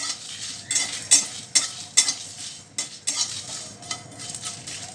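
Spices with asafoetida are stirred in a hot kadhai, a metal spoon scraping and clinking in repeated sharp strokes over a soft background sizzle, close up, with no voices.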